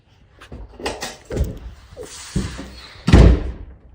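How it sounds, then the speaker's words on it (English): A door is shut in a dark house at night, landing as one heavy, close slam near the end after scattered softer bumps and rustles, with a faint voice murmuring earlier. "I swear I saw something as I shut the door."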